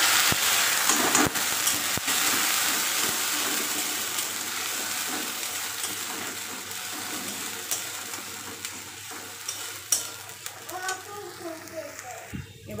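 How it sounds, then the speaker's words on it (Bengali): Spices with chili, cumin, coriander and a bay leaf fry in a kadai wok, a dense hissing sizzle loud at first and slowly easing, with stirring clatter and a voice speaking near the end. "দেখো মশলাটা কষাচ্ছি আমি"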